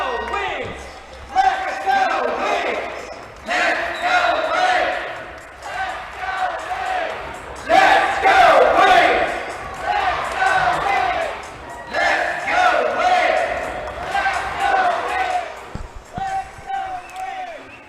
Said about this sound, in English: Crowd tries to get behind the home team as Lauder attacks the flank.